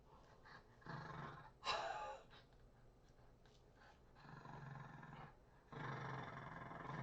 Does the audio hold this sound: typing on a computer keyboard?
no